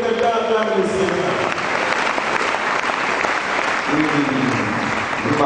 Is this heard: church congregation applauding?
yes